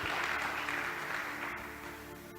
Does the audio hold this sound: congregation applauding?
yes